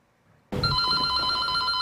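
A pay phone bursts into a loud, continuous electronic ring after a brief silence, the tone trilling steadily close by.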